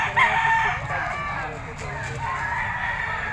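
A four-year-old white Kelso gamefowl rooster with yellow legs crows in a loud, drawn-out call over steady background noise, with people talking nearby.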